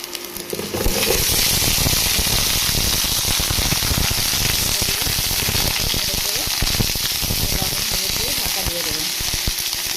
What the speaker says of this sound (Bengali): এদিকে কড়াইয়ে দিয়ে দিয়েছি জিরে ফোড়ন দিয়েছি। এবারে আমি আলুটা দিয়ে দেবো।